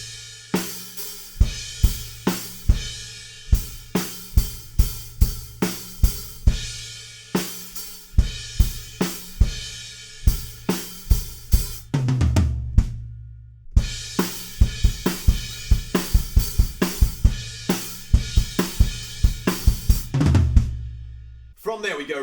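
A drum kit pounds out the post-chorus riff groove of a song, with loud, evenly spaced cymbal-heavy hits and kick accents driving continuously, a few brief fills breaking the pattern.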